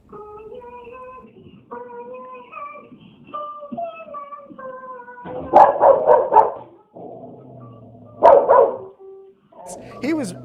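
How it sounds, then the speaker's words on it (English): Dog reacting to its own image on a TV broadcast, giving a few loud clustered barks in two bursts amid sung and spoken TV audio. "He was barking because he's like, "I'm looking good.""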